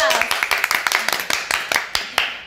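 A small group clapping for a few seconds, a quick, uneven run of sharp hand claps close by, fairly loud, with no talking over it.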